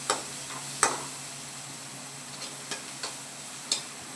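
Bitter gourd and masala frying in oil, a soft continuous sizzle with scattered sharp ticks and spatter pops at irregular intervals, close and quiet with no voices.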